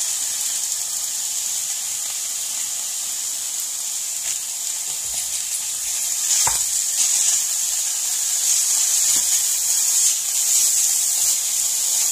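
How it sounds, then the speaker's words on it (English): Kale cooks in a pan with a steady soft hiss and sizzle, with a single brief stirring scrape partway through. "I'm going to let this cook for a few seconds before adding in the cauliflower rice."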